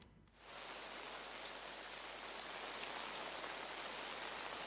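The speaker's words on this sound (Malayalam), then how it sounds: "ശക്തമായ മഴയായിരുന്നു വടക്കൻ കേരളത്തിലാകെയും തന്നെ" Heavy rain starts abruptly and pours down steadily as a dense, even roar of drops with no other sounds.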